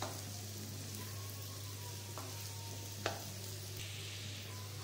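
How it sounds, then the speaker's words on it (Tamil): A gooseberry (amla) pickle mixture sizzles quietly and steadily in a pan as it is stirred, with a couple of sharp spoon taps against the vessel and no voices. "இப்போ எல்லாத்தையும் நல்லா mix பண்ணி விட்டுக்கோங்க"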